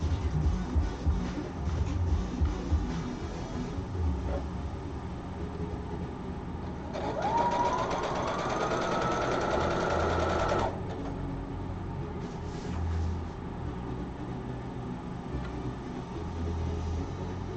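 A sewing machine stitches a very narrow flat fell seam in a steady whirring run of about four seconds that rises slightly in pitch, heard over a continuous low background hum, with no talking.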